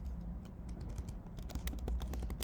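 Rapid clicking of keys on a computer keyboard, a continuous patter of typing at moderate loudness with no voices.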